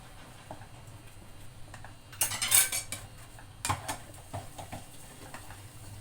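A spoon stirs semolina upma in a pot on a low flame, with quiet metallic scrapes and clinks that swell into a brisk clattering burst midway, then settle into lighter taps.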